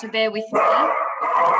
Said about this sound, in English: You can probably hear my sausage dog barking in the background.